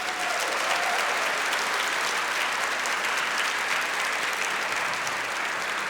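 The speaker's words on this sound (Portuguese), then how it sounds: "Uma salva de palmas para as mulheres." A congregation at a church talk gives steady, dense applause, an even roar of many hands clapping at close range throughout, with no voices on top.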